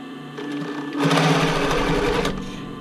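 Sewing machine running a steady zigzag stitch over rolled fabric edge with elastic for a sports bra, a continuous close whirring hum that picks up speed partway through and holds for about two seconds.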